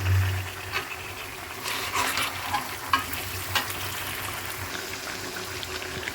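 Pieces of country chicken sizzling in a wok with ground spices, a continuous moderate hiss and crackle with occasional stirring scrapes and clinks, no talking.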